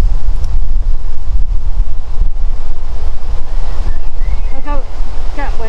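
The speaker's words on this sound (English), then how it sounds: "Wind into my face." Strong wind buffeting the microphone on Crookhill Park golf course during a three-hole round: constant loud low rumble and gusting noise, with faint voices and brief high chirps near the end.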